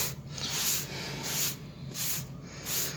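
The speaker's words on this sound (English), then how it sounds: "just spray a little bit more on here" Folex instant carpet spot remover sprayed onto carpet from a trigger bottle: repeated sharp, hissy spray bursts, about five in a steady rhythm, close and fairly loud with no talk.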